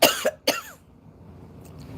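A person gives two sharp, close coughs in quick succession, followed by quiet room noise.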